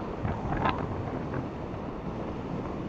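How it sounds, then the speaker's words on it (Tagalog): A breeze blows on an asphalt mountain road near Angat in Bulacan during a ride toward Mount Brigino, a steady rushing hiss that buffets the microphone, with no voices. "Tapos ang sarap ng simoy ng hangin"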